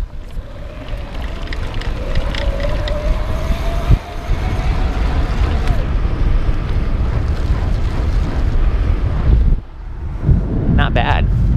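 A BULLS Lacuba EVO E8 e-bike ridden at high pedaling cadence, its motor whine rising over strong wind rush and road noise, with a brief drop near the end.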